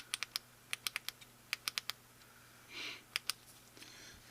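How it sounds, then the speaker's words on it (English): The clicky switch of a small AAA LED flashlight clicks repeatedly in short crisp bursts, quiet and close, with a brief soft rustle in the middle and no talking. "You got a clicky switch."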